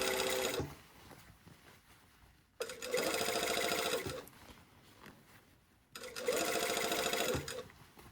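Sewing machine stitching a continuous lap sleeve placket on a shirtdress, running in three loud bursts of rapid whirring stitches separated by quieter pauses where the fabric is shifted.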